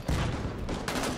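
Gunfire in the online multiplayer shooter Halo 5: Guardians, with sniper rifle shots in a Slayer match: a quiet, dense burst of shots followed by a second burst a moment later.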